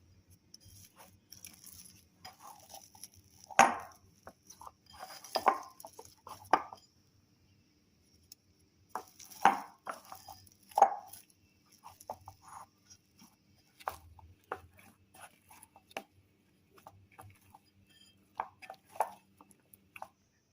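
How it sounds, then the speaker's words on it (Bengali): Pizza dough being kneaded by hand on a work surface, a sparse quiet series of soft slaps, presses and thumps with short pauses between them. "এবার আমি ভালো করে মেখে নেব।"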